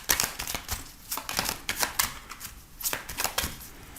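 Gilded Reverie Lenormand oracle cards being shuffled by hand, a quick rhythmic series of crisp riffling flutters, close and alone.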